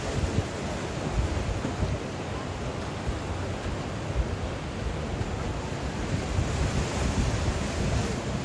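Ocean surf breaks and rushes continuously while someone learns to surf, a broad roaring wash mixed with wind buffeting the microphone, loud and close, with no clear speech.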